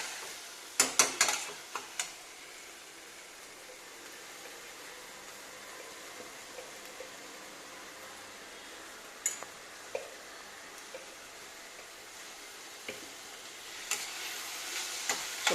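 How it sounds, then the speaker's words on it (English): Pav bhaji mix with chopped capsicum is stirred in a hot pan, a low, faint sizzle with bursts of clattering spoon scrapes near the start and again later. "the more you stir, you'll notice that our mix is getting drier because the moisture is being released due to the heat content"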